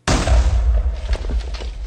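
TNT blowing up in the video game Minecraft, one sudden loud blast with a deep rumbling boom that stays heavy and dense for nearly two seconds.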